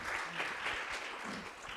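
Audience applause at a panel discussion, a brief burst of faint, distant clapping from a crowd.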